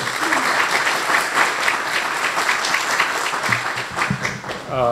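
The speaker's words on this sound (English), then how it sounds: "Please give a warm round of applause for our Consul General, Young Won Kim." An audience at an event marking 12 years of the Korea–US FTA applauds the Consul General, giving dense, steady clapping from a sizeable crowd that holds throughout and starts to thin near the end.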